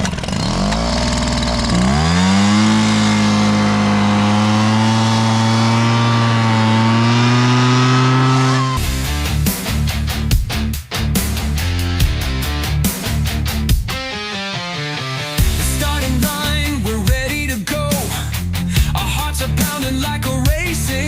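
A dual engine drag vehicle fires up and idles with a rough, rising roar, then breaks into choppy, stuttering bursts of revving, loud and close, with no talk.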